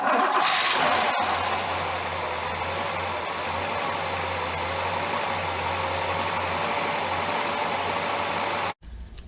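A 1965 Chevrolet Impala convertible with a Saginaw 4-speed idles steadily close by, its engine running with temporary wiring and a kinked hose, a continuous even rumble that cuts off briefly near the end.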